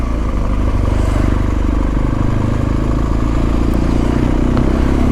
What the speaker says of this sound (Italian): Arriva una moto.